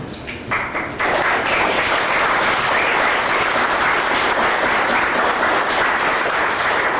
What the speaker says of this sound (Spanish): yo quiero que a cada uno de ellos lo recibamos con un aplauso